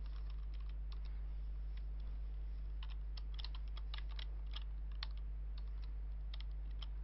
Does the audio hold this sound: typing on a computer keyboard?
yes